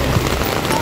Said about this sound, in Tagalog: Ulan lang ito.